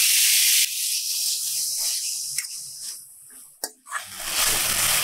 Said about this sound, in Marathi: त्यामध्येच आता थोडंसं याला परतून।